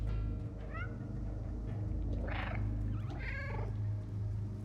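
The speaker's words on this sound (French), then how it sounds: "Des fois, son miaulement, il est un peu malade, hein, notre chat." A cat in the video game Stray meows a few times, rough and slightly strained, over a steady low ambient hum, with one longer wavering call near the middle.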